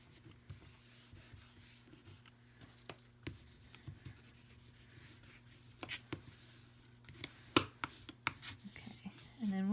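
A 9 by 4 inch piece being rubbed by hand, a quiet scratchy rubbing with irregular strokes and small taps, growing a bit louder near the end.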